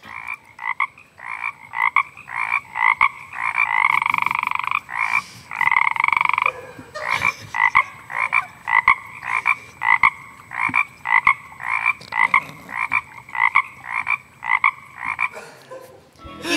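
A human voice imitating a crying frog, with rhythmic croaks repeated steadily over about sixteen seconds, a few longer drawn-out calls near the start, loud and close.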